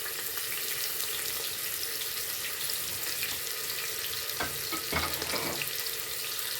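Chopped onions fry in a pan, giving a continuous bright sizzle and crackle at moderate loudness, with a few clatters of stirring near the end.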